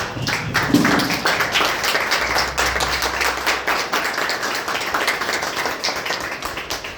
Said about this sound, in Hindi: आप लोग खड़े होकर इनके स्वागत में ताली बजाएं